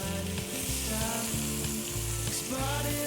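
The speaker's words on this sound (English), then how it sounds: "Look at the meats flavors down there. Get that sear going." Beef sears in a pot for Filipino caldereta, giving a continuous hissing sizzle under a steady bed of loud background music.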